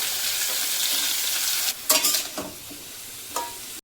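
Chopped eggplant and radish fry in a hot pan with a steady, loud sizzle, then a few scraping stirs break through near the end.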